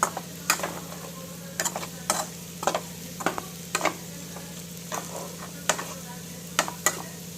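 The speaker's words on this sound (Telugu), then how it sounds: "అడుగు అంటకుండా, అడుగు మాడకుండా మొత్తం తిప్పుకుంటూ ఉండండి" A spoon scraping and stirring chicken and prawn masala fry in a pan, irregular clinking strokes every second or so over a soft steady sizzle, close and clear with no talking.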